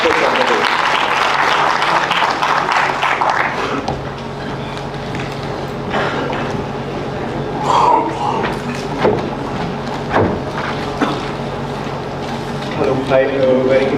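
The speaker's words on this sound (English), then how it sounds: "Let's have a round of applause" Applause from a conference audience at an entrepreneurship summit pitch session rises loudly at first, then thins into scattered claps as voices and stage noise carry underneath.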